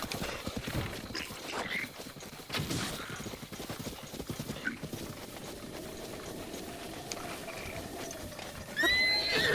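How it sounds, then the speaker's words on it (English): A horse whinnies amid clip-clopping hooves and outdoor ambience in the video game Breath of the Wild, with scattered sharp pops in the background. "Well, you know, I was wanting a horse."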